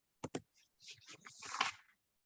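Stata command typed on a computer keyboard, two quick key clicks followed by a soft run of tapping and clicking that ends in a slightly louder keystroke, close by and quiet.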